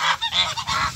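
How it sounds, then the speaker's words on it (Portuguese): Geese honk while eating at a farm pen, a close, loud series of four or five rapid nasal honks in quick succession. "Olha os gansos comendo."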